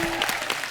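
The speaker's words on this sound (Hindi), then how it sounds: "भूत पुलिस की कास्ट के लिए जोरदार तालियां हो जाए यार।" Studio audience applause for a comedy show cast, a short dense burst of clapping from a crowd, steady and fairly loud throughout.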